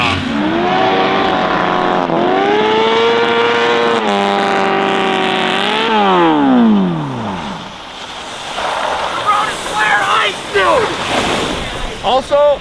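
A sport motorcycle engine swapped into a quad, with unequal-length headers and running lean, revs hard in repeated high-pitched rising and falling sweeps, then gives way to rougher, gusty noise with short bursts.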